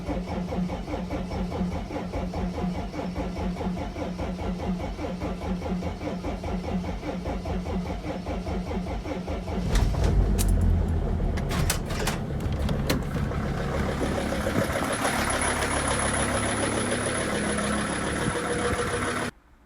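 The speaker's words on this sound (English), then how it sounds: "Does your Sprinter van start like this when the weather is below 60 degrees?" A Mercedes Sprinter van's diesel engine cranks steadily with a rhythmic starter churn in cold weather below 60 degrees, then catches and settles into a rough, loud idle.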